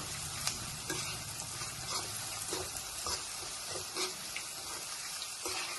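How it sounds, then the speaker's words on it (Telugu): Onion frying lightly in a pan for a cluster bean and moong dal curry, a steady soft sizzle with scattered stirring scrapes and clicks, close and alone. "చూసారా కొంచెం వేగింది ఉల్లిపాయ"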